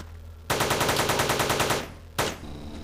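An SMG fires a rapid automatic burst in the video game Teleglitch Die More Edition, about a dozen evenly spaced loud shots over a second and a half, then one more sharp shot after a brief gap, no voices.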